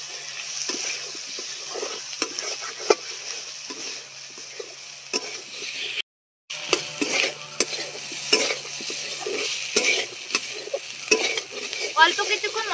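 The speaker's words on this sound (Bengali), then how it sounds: "দিয়ে দিচ্ছি আদা আর দিয়ে দিচ্ছি জিরে বাটা, দিয়ে একসঙ্গেই কষিয়ে নেব" Ginger and cumin paste sautés in a pan, a quiet sizzle broken by repeated scraping stirs and light utensil clinks, close, with a brief gap midway.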